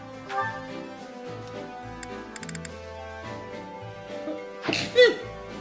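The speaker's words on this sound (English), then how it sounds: "that sneeze kind of broke my body" A single sharp sneeze bursts out near the end, loud and close, over a quiet background of soft music and small ticking sounds.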